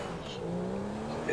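Car engine in a video game droning steadily with a low hum and slight pitch rise, moderately loud and continuous, with faint tire noise near the end.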